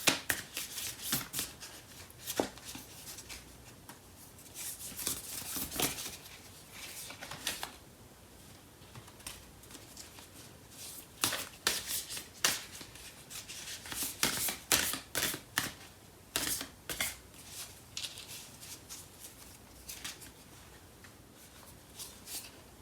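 Tarot cards are shuffled and drawn in a quiet room, giving repeated soft riffling and slapping bursts spread across the whole stretch with no talk.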